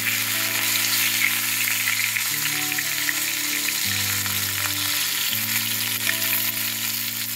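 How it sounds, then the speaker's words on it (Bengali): Pankal fish frying in hot oil gives a steady, even sizzling hiss that runs throughout, with sustained tonal background music layered underneath. "এই মাছ আমি ভেজে তুলে নিলাম।"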